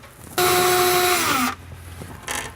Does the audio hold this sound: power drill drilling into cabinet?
yes